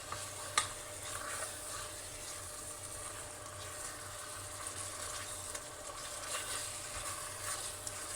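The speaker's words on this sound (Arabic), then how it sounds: "خليهم يتشوحوا شويه مش كتير" Chicken sautés in a pan for Tunisian couscous, a soft, continuous sizzle with faint stirring scrapes and an occasional clink, quiet and close with no talking.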